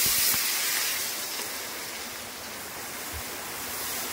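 Gravy is poured into a small, hot kadai of fried food on a stove, giving a steady, loud, broadband hiss of steam that stays fairly constant throughout, with no voices.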